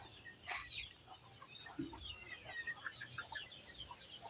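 Chickens and a rooster behind a house at a rural home, clucking in scattered short calls at moderate distance over faint background noise, with a few sharper bird calls and no talk.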